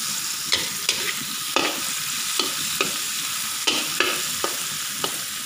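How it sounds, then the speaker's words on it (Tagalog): Sweet and sour tilapia being stirred in a pan over a steady sizzling fry, with sharp spoon scrapes and clacks at irregular intervals, close and clear. "Halu-haluin lang natin guys."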